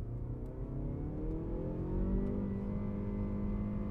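A 2019 Mazda3 GT engine revs upward in first gear in manual shifting mode, the pitch climbing smoothly over a few seconds, heard from inside the car with no talk.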